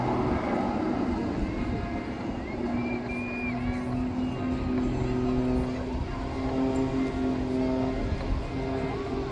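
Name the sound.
aerobatic aircraft spiralling down in a flat spin at airshow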